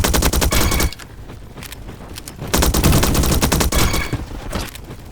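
Skorpion vz.61 fire in the game Bad Business: dense, rapid automatic bursts, loud and close, with a short lull between two long strings of shots and no talking.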